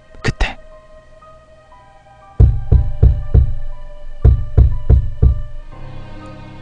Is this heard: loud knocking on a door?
yes